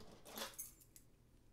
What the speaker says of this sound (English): My house keys with my cute little Coach keychain that matches my blue tabby.